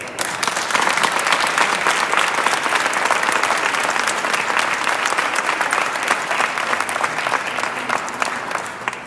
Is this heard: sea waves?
no